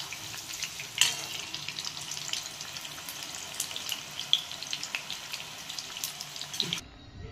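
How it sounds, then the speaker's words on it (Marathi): Vadi frying in oil, a steady hissing sizzle with occasional pops and a louder crackle near the start, heard close by before it cuts off abruptly at the end. "मस्त असं फ्राय तळून घ्यायचं"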